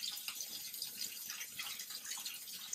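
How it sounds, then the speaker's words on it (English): Hot water runs from a bathtub tap during a home inspection, a steady, faint hissing splash that continues throughout with no talking. "we're going to pull the stopper and allow the tub to come on"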